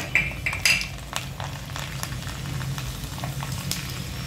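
Garlic cloves hitting hot oil in a pan with the flame switched off, for a lemon pickle, give a steady close sizzle and frying crackle, with a few metallic clinks of utensils near the start.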